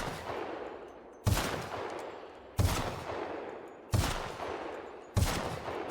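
Four heavy gunshots from a weapon in the video game The Outer Worlds, evenly spaced about a second apart, each a sharp loud crack trailing into a short rumbling decay, with no talk.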